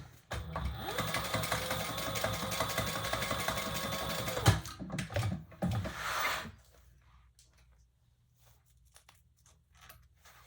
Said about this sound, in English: now we're going to stitch just between our previous stitches over the zipper tape